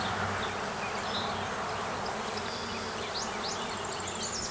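Honey bees hum in a dense, continuous swarm drone at an opened hive during requeening, steady and close, with occasional higher whines from individual bees flying past and no voices.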